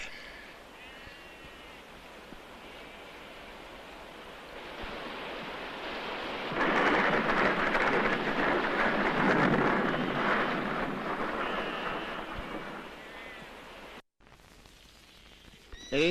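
Heavy rain pours on the Mongolian steppe as a dense, loud rushing roar that swells in the middle and then eases off, with faint rumbling underneath.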